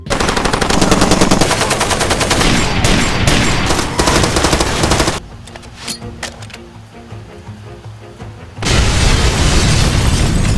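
Heavy gunfire from the game Far Cry 2: dense, loud machine-gun bursts and explosions, dropping to quieter scattered shots and rumble before a sudden return of sustained rapid fire.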